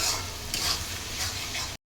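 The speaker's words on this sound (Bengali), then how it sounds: "এখন আমি মশলাটা কষিয়ে নিচ্ছি।" Masala fries in mustard oil with ginger-garlic paste, chopped onion and tomato, giving a close, steady sizzle with soft stirring scrapes, then cutting off abruptly.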